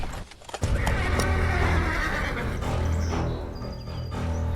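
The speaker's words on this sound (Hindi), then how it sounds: "अच्छा हुआ ये घोड़ा धीरे धीरे रुक रहा है। लगता है घोड़ा काफी थक चुका है।" A horse in an animated story neighs loudly with a long whinny while its hooves clip-clop and slow to a stop, close and clear with no talking.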